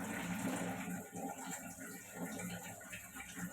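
A child washes dishes under running water, a steady splashing flow with faint clatter filling the whole stretch, fairly close.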